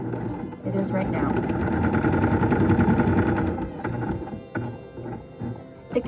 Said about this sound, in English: I'm going to go ahead and stitch down this ribbon so it's not flopping